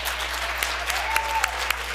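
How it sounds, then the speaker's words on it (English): An audience claps for an honoree at a certificate presentation, a continuous roomful of applause with a few sharper individual claps popping out of the steady clatter. "Give her a round of applause"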